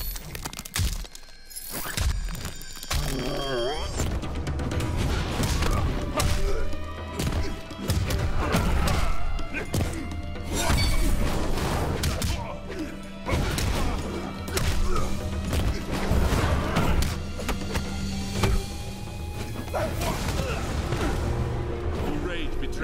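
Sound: X-ray move impacts and bone shattering in Mortal Kombat XL video game

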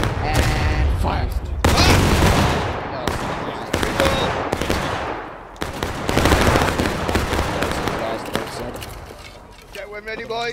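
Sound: infantry volley gunfire in the video game War of Rights

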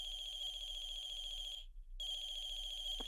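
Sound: phone ringing near the car in video game The Closing Shift

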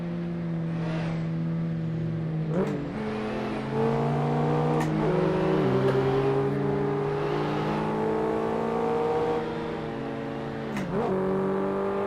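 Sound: car driving in a video game

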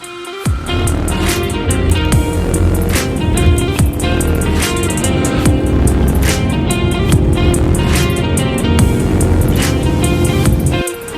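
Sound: Ford Mustang 2.3 EcoBoost car accelerating during test

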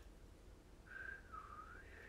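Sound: failed attempt at whistling, airy hiss

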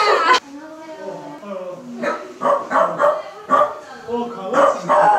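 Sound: dog barking

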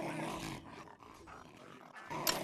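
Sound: dog growling in the video game Gorn

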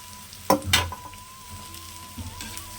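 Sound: chopped carrots and beans frying with onion

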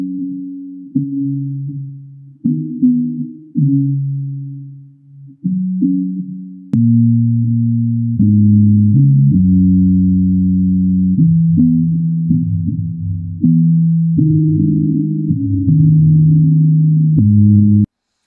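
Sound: sine tone playback from deCoda software piano roll

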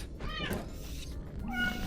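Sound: cat meowing in the video game Minecraft

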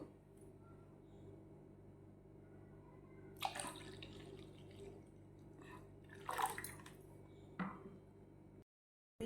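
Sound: water poured into bowl

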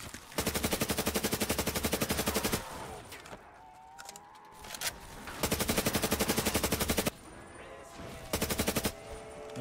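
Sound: gunfire from video game Black Ops 3 Zombies

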